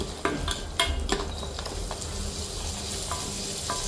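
Onions sautéing in a pan for Gujarati mendu vada, with a steady oily sizzle and frying crackle throughout, broken by a few sharp clicks and scrapes of stirring, moderately close and without talk.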